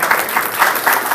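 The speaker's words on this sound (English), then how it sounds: "Give her a clap," An audience claps for a woman at a seminar, a dense, steady patter of many hands at moderate loudness with no voices over it.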